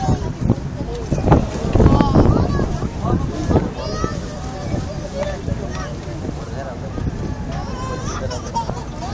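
Wind buffets the microphone aboard a Üsküdar passenger ferry on the Bosphorus, with a steady rumbling engine drone beneath, loud and continuous, while people talk and laugh nearby.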